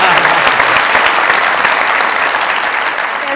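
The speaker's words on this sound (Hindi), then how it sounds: "आज खास तालियां होनी चाहिए हिना के लिए जो 14 अगस्त मना रही हैं अकेले।" Loud, dense studio audience applause on a comedy talk show, a continuous roar of many hands clapping close to the microphone, holding steady and easing slightly toward the end.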